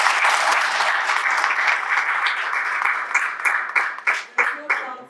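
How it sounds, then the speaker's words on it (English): Audience round of applause at a farm event honoring the Minister for Agriculture: dense, steady clapping that thins out over the last seconds into a few scattered, separate claps. "I will just give you a round of applause."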